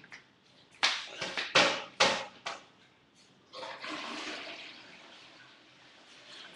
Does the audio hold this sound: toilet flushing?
yes